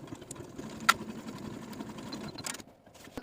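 A sewing machine hums quietly and steadily while stitching a sleeve seam from the cuff up over the folded sleeve edge with a half-inch allowance, with a couple of faint clicks.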